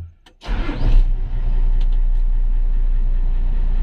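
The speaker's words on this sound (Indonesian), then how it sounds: "Kita coba mobil ini. Kita hidupkan." A new truck's engine cranks briefly with a sharp click, catches with a loud roar, then settles into a steady, close, even idle rumble.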